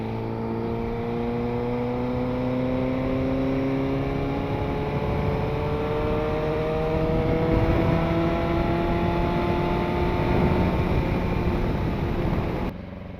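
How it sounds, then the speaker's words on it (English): A Suzuki GSX-R sport motorcycle with an aftermarket exhaust revs up steadily with a high, strained, screamy exhaust note, rising harmonics climbing in pitch and holding loud throughout before cutting off near the end. "it doesn't sound right with this exhaust on it. It seems very screamy."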